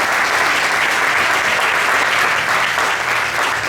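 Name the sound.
congregation applause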